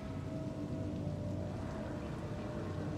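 Steady rain in Cyberpunk 2077 patters in a soft, even hiss with a low rumble beneath, faint and continuous with no voices.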